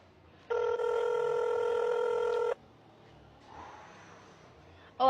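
A telephone rings once in a single sustained electronic burst lasting about two seconds during an attempt to call someone, followed by quiet room noise, a faint rustle and a brief sound at the end.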